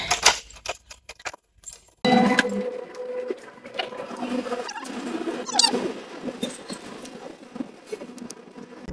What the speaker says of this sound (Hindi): गाड़ी की चाबी ले ली है, घर की चाबी ली नहीं है, इसके अंदर भी डालनी पड़ेगी मुझे।